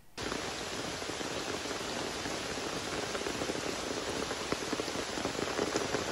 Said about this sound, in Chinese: 下着大暴雨